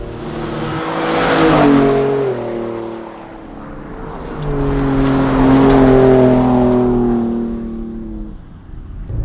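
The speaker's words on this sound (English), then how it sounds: "The exhaust note, it sounds really good." A Ford Raptor truck engine with a Mountune power upgrade revs up twice with a deep, throaty exhaust note, rising and falling in pitch, close and loud.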